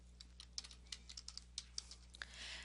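Computer keyboard typed in quick, irregular keystrokes including the tab key, faint crisp clicks over a quiet low hum, then a soft rustle at the end.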